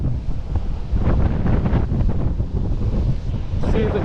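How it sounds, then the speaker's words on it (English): Strong coastal wind pounds the microphone beside a sea cave fishing spot, a loud, constant rumbling roar with gusty surges and the wash of waves beneath it. "it's definitely very windy out there"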